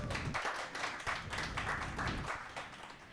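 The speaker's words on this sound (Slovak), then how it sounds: "Poprosím jeden veľký potlesk pre pani Porubenovú." Large audience applauding a guest sociologist at a discussion event, steady dense clapping sustained throughout at moderate loudness with no talk over it.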